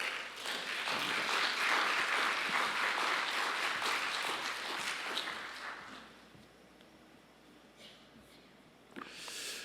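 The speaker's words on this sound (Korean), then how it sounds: "큰 환영의 박수 보내주시겠습니다" A church congregation applauds in welcome for a visiting pastor at an early Saturday morning service, a dense, steady wash of clapping for about six seconds that then thins and fades, with a brief final burst near the end.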